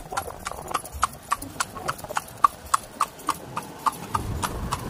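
A horse named Rambo pulls a kalesa carriage through Manila, its hooves clip-clopping in a steady, crisp rhythm up close while voices murmur faintly underneath.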